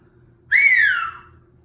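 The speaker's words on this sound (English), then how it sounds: "if you blow outward, you will more likely than not be able to get the loud whistling noise" A single loud, piercing finger whistle rises sharply then slowly falls in pitch, lasting under a second against near silence.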